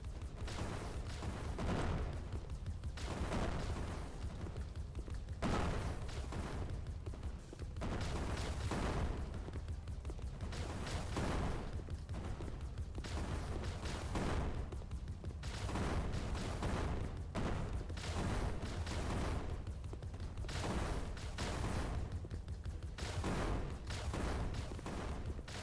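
Laser turrets in a video game fire steady, dense volleys of rapid blasts throughout, overlapping into a continuous barrage with regular pulsing bursts.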